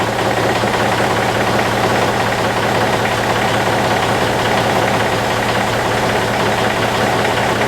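A trailer project's engine idles steadily throughout, a loud, continuous low rumble with a faint knocking vibration and no pauses or revving.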